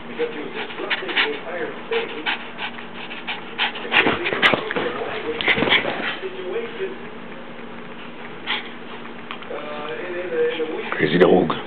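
A dog on a bed pants rapidly in close, rhythmic bursts with occasional whimpering, while a person repeatedly speaks to it.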